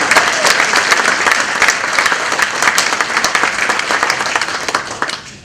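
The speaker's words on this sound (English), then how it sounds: "Please give them both a round of applause." An audience claps enthusiastically, a dense continuous patter of many hands that fades slightly toward the end.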